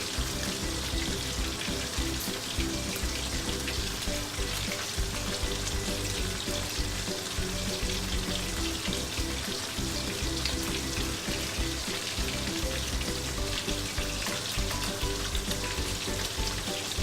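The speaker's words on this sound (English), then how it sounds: "I'm just pan frying it for my purpose to get the fragrance out." A snapper fish head pan-frying in oil, giving a loud, steady, dense sizzle with crackling spatter that runs unbroken throughout, with no voices.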